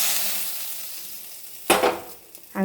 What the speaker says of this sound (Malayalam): ഇനി ഇതിലേക്ക് വറുത്തിട്ട് കൊടുക്കാം.